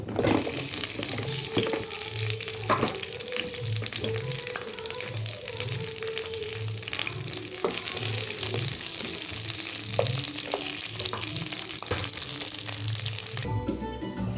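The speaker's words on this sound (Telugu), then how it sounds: "దొండకాయలు వేసాలండి ఆయిల్ వేడెక్కాక." Ivy gourd (dondakaya) pieces fry in hot oil for masala dondakaya, giving a steady, dense broadband crackle and hiss throughout, with scattered sharper pops and light clinks over a low background hum.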